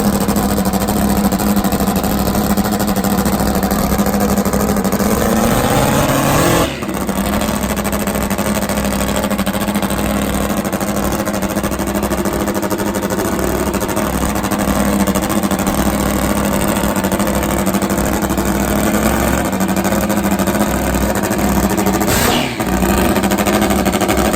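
A Top Fuel nitro drag motorcycle engine warming up at a drag strip in England, a loud sustained engine roar that holds steady with two brief dips, heard alone without talk.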